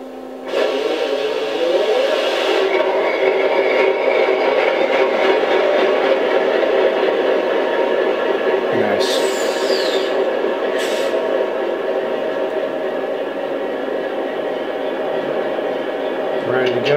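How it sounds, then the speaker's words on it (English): An Aristocraft ALCO RS-3 model locomotive converted to battery power runs its motor with a steady humming drone, broken by two short high-pitched bursts midway. "Time to start the motor."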